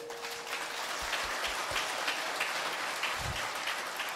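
Audience applause at a spiritual discourse, a steady patter of many hands clapping throughout at moderate volume, with a few heavier low thumps partway through.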